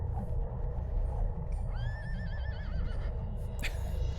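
A horse whinnies once in a shrill, wavering neigh over a steady low rumble of background noise in the original Xbox game Knight's Apprentice: Memorick's Adventures.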